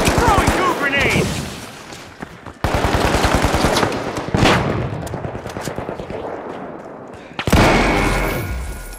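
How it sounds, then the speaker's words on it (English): Rapid, loud bursts of video-game gunfire and several heavy thudding blasts as goo grenades are thrown and explode, each burst cutting in sharply and then fading into ringing decay. "Throwing goo grenades!"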